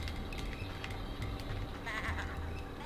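Sheep bleats from the PS2 game Tak and the Power of Juju come faint and brief, scattered over a low, busy game background with soft clicks.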